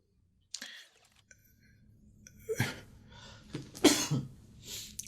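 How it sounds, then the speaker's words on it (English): A few short, harsh coughs in a quiet room, with faint clicks and shuffling between them. "Sorry about me coughing, guys."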